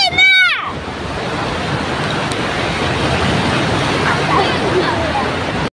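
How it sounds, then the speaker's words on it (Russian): Floodwater waves in a flooded town during a storm, a steady loud rushing wash that fills the clip after a brief tonal sound at the start. "О, на волны смотри какие."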